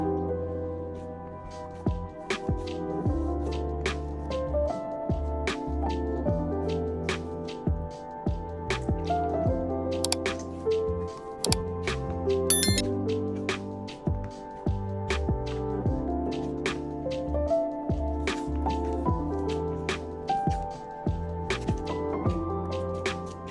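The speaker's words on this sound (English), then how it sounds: "I knead it for about 25 minutes and wet my hands 6 to 7 times in total during kneading." Wet hands kneading Turkish dough on a tray, repeated close squishing and slapping sounds in an irregular rhythm that continue steadily throughout, with no talk.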